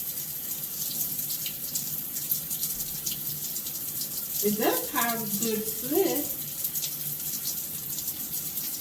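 Tap water runs steadily into a sink while hands are wetted, with a continuous close gush throughout and a brief stretch of speech over it midway.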